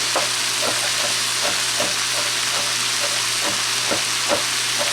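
Fried rice sizzles in a pan while being stirred, a loud constant hiss with rhythmic scraping strokes repeating every half second or so.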